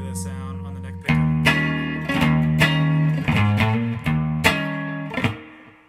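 Electric guitar on the neck pickup through a Morgan amp with light delay and amp reverb, a steady run of close, loud picked chords and notes, no voice.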